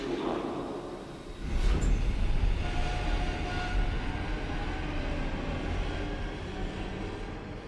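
Metro train in the horror video game Daymare: 1994 Sandcastle, a heavy rumbling rail roar that swells after the first second and then runs on steadily, with a brief high screech near the start.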